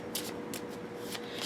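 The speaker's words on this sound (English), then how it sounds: "I'm going to shuffle up these Divine Ancestor cards" Oracle cards from a Divine Ancestor deck being shuffled by hand, with repeated papery riffling bursts in a steady rhythm, close and clear, with no talking.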